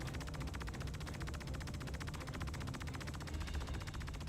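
Minigun fire from the Star Citizen video game, heard as a continuous rapid stream of shots at a steady rhythm for several seconds, fairly faint and alone.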